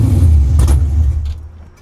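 Big block V8 in a 1968 Camaro running close by, a loud, deep, rumbling idle with a brief rise in revs partway through, then settling and fading slightly.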